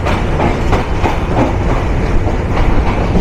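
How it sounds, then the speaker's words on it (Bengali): Nilsagar Express locomotive and carriages running on rails through Dhaka, a steady loud rolling roar with rhythmic clickety-clack of wheels over rail joints, continuous and close throughout. "লোকোমোটিভের নজ বাড়ছে ট্রেনের স্পিডও কিন্তু বাড়ছে"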